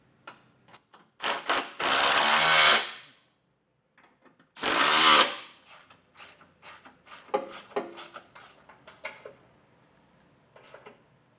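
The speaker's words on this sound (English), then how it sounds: "we'll come back through and snug down all of our hardware" Base plate mounting bolts being snugged down on a 2017 Jeep during a Roadmaster crossbar-style kit install, heard as two longer whirring bursts of a power driver followed by scattered clicks and short mechanical rattles of hardware and tools.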